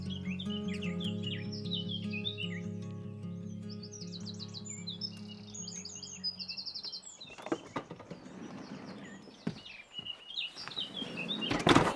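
Goldfinches call in a rural Irish setting as winter approaches, with high twittering chirps scattered across the first seven seconds over a low droning hum, then fainter, broken rustling and a few sharper knocks toward the end.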